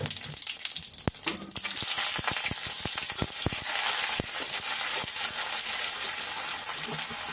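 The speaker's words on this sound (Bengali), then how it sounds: "চিকেনের পুরটা কড়ার মধ্যে জিরে, তেজপাতা, শুকনো লঙ্কা ফোড়নে দিয়ে দিলাম" Cumin seeds, bay leaves and dried chillies hit hot oil in a wok for a chicken samosa filling, bursting into a loud, close, steady sizzle with crackling pops throughout.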